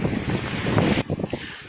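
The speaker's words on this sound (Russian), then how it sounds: "Ну вот ветер сегодня, бриз такой." Strong wind buffets the microphone outdoors on the coast by a yacht club, a rough, roaring rush that briefly drops in intensity after a second.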